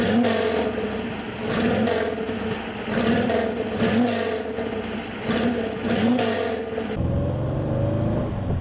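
1974 Porsche 914 with a brand new engine running close by, revved in repeated rising pulses for several seconds before settling into a steadier lower idle; no talking.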